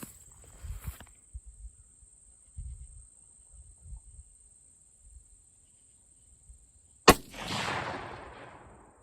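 A Savage Axis budget rifle fires a single loud, sharp shot late in the clip, followed by a decaying echo, with crickets chirping steadily in the background and faint shuffling movements before the shot.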